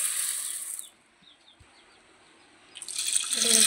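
Water pours over a cup of chana dal for washing, a splashing rush that cuts off into near silence, then returns loudly toward the end.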